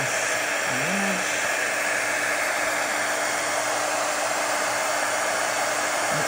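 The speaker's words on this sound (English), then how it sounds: "I'm going to go ahead and heat emboss my image." A heat gun blowing hot air to heat emboss a stamped card image, a loud constant whooshing fan roar held close and steady throughout.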